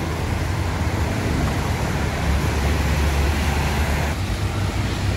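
Dense road traffic on the way into Palembang city, a steady loud rumble of passing vehicles heard from inside a moving bus, with continuous low engine and road noise.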